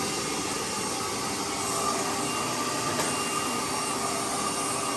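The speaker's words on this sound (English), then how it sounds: "we're breaking in our brand new shop vac" A brand-new shop vac runs with a steady, loud, even whoosh as it sucks up leaves from a garage floor. It drones without any pause.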